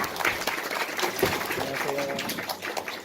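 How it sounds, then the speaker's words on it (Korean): Audience applause at a university lecture in Korea, a steady wash of clapping from a large student crowd lasting a few seconds, with voices and chatter mixed in underneath. "박수 받으세요."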